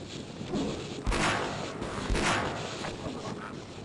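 Two heavy, booming weapon shots about a second apart ring out in Half-Life: Blue Shift during a firefight with soldier grunts, over a low rumbling background.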